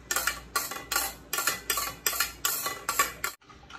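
A spoon clinks rhythmically against a bowl while lemon juice, chopped ginger, garlic and spring onion are stirred together, about eight quick scraping strokes in a steady beat before stopping.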